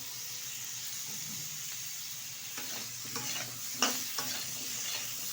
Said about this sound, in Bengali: এবার ভালোভাবে একটু নেড়ে চেড়ে নেব।